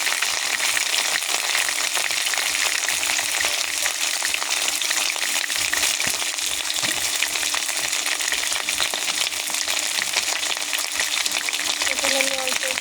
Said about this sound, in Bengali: লাল লাল করে ভেজে নেব।